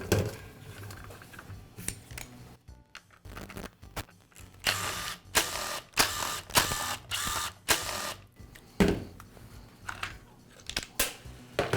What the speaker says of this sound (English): I'll begin by removing the rear handle cover.